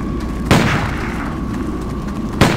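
Two loud gunshot booms, spaced about two seconds apart, ring out over a continuous rumbling game background in Stubbs the Zombie.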